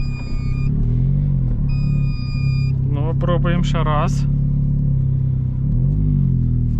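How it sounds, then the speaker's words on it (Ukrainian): A small Chery QQ car engine drones loudly and steadily with a raspy, blaring exhaust from a failing muffler, while someone briefly speaks over it. "Правда, глушитель дико кричить."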